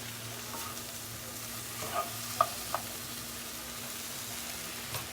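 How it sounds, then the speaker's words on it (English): Something sautéing in a pan for a shrimp pasta gives a low, steady sizzle with a few soft clicks of a utensil, quiet and close, with no talking. "So now it's cooking nicely. See it sauteing."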